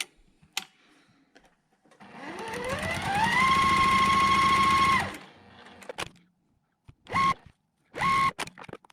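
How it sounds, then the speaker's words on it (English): Sewing machine stitching quilt squares along a drawn diagonal line, a close motor whir that ramps up to a steady high hum for a couple of seconds, then stops, followed by two short bursts. "we're going to stitch on that drawn line"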